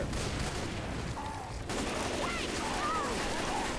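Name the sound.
gunfire in a zombie video game, shooting at the tank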